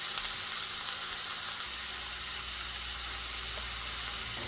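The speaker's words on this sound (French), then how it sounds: "je mets à cuire mon steak" A seasoned burger steak sizzles in a hot pan with a loud, steady, close hiss of frying fat that holds unbroken throughout.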